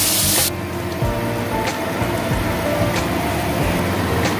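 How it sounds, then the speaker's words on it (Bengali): Curry broth with potatoes boiling in a pan gives a steady, noisy bubbling hiss that runs throughout, with a few sharp clicks and pops near the start and scattered through. "আচ্ছা, ঝোলটা ফুটে উঠেছে"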